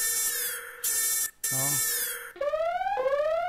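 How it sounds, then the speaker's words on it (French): Several synthetic alarm tones play in succession: a steady buzzing tone, a short break, then rising electronic whoops repeating. "on va écouter s'il y a une alarme qui nous plaît"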